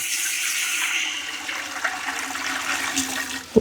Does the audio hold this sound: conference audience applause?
no